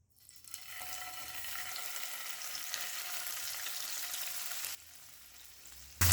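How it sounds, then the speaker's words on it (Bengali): Paneer pieces frying in white oil in a pan over a medium flame, a steady bright sizzle that builds in quickly, holds, then drops slightly before a sudden louder burst at the end. "মিডিয়াম ফ্লেমে রেখে 2 থেকে 3 মিনিট পনিরগুলো হালকা লাল করে ভেজে নেব"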